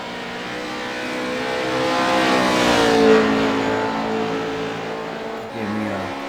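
In the iRacing sim, a truck engine revs hard on the Phoenix oval, rising to a loud peak and then easing off, a continuous synthetic engine roar with no talking.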